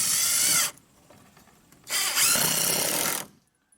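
Power drill driving screws into a homestead fence, two loud bursts of whirring separated by a pause, close by with no talk.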